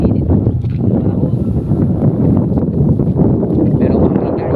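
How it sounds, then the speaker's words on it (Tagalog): Wind blowing across a rice field on a hot afternoon, a steady close buffeting rush with low rumbling gusts battering the microphone throughout. "Pero mahangin guys."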